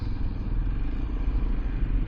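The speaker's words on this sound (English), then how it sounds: "That is an illegal exhaust." A loud motorcycle exhaust rumbles steadily and low on a dual carriageway, recorded from a 2024 Kawasaki Z125 while riding, with wind and road noise over the continuous drone.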